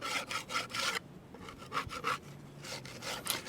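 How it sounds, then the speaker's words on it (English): A scraper drags over a wooden piece coated in dried salt wash paint, giving rough, repeated rasping strokes that sound close and steady, with a short pause partway through and nobody talking. "We'll just give it a little scrape first, and then we'll sand it."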